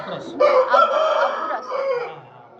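An Abburasa breed fighting rooster crows in one drawn-out, loud, close call that rises and then trails off.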